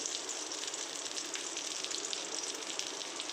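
Mango pieces fry on low heat in a pan for chutney, giving a steady, close hiss of sizzling oil with no pauses and no talk.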